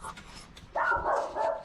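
A dog at a kennel farm in San Rafael, Bulacan, gives a run of loud, close barks lasting about a second, following a quieter stretch.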